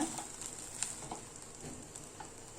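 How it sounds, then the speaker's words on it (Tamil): Egg fried rice with pepper stirred in a pan, heard as a faint, low sizzle with soft scraping and a few light utensil taps throughout. "நீங்கள் நல்லா பெப்பர் போட்டதுக்கப்புறம் இன்னொரு டைம் நல்லா மிக்ஸ் பண்ணிக்கோங்க"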